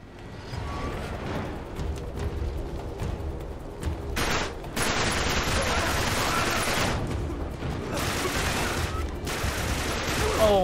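Dense bursts of rapid gunfire in Uncharted 3: Drake's Deception, loud, continuous volleys and rattling shots filling the scene, with a player's voice talking over it at moments.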